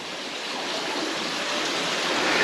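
A stream rushes steadily over rocks in a continuous broadband wash, close and even throughout with no voices, in the countryside.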